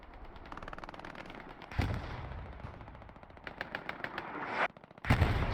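Rapid machine-gun bursts and gunshots crackle continuously in a Hell Let Loose battle at Sainte-Mère-Église, with heavier artillery-like booms landing near the two-second mark and again near the end, all fairly distant and dense, no talk.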